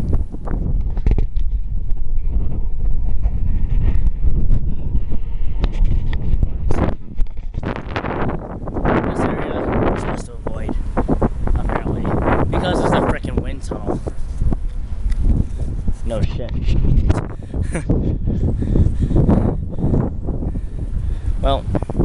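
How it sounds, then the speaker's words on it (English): Strong gusting wind buffets the microphone outdoors, a loud continuous roar with rumbling bursts that runs throughout, while a person talks over it. "Damn, the wind is strong."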